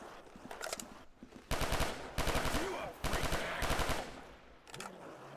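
Bursts of rapid automatic gunfire from a weapon in Call of Duty: World at War zombies mode, several loud volleys in quick succession with short gaps between them, no talking.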